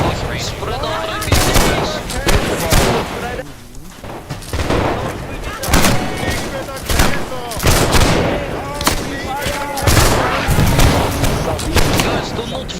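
Repeated loud gunshots from Hussar pistols firing volleys in the video game Hellish Quart, cracking in uneven bursts over continuous combat noise, with voices shouting underneath.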